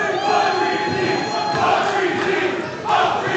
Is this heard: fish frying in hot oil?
no